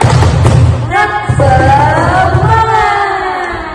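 Loud bursts of rhythmic spirit clapping from a group of children at Sunday school, followed by excited shouting voices, all close and energetic.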